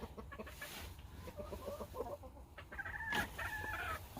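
Several chickens cluck and murmur nearby, with irregular soft calls overlapping against a quiet outdoor background.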